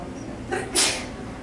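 A person sneezes once in a classroom, a short breathy intake followed by a sharp, bright burst, close and moderately loud against quiet room noise.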